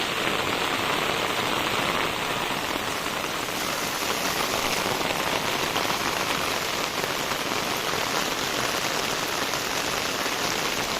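Heavy, steady rain pours down on surfaces nearby, a dense continuous hiss of drops with no pauses and no voices.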